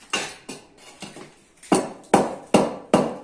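Sharp hammer blows knock a tire onto a Honda Fan 160 motorcycle wheel rim, about eight separate close impacts at an uneven rhythm, each with a short ringing decay, with no talk.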